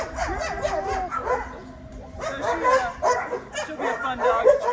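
A Portuguese Water Dog yips, whimpers and barks in quick, repeated, high-pitched bursts close by, with a brief pause before the excited vocalizing resumes.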